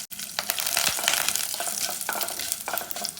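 Curry leaves and chillies hit hot oil for a mani kozhukattai tempering, giving a loud, steady crackling sizzle with intermittent stirring scrapes throughout and no voices.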